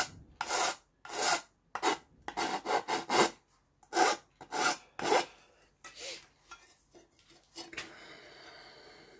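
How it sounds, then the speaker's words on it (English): Abrasive rubbing strokes across a fabricated under-seat tray for a Suzuki GSX-R 750 motorcycle, worked diagonally by hand: a series of close, loud, rasping scrapes in an uneven rhythm, tapering into lighter, quieter strokes at the end. "need to do is just give it a little rub diagonally like this."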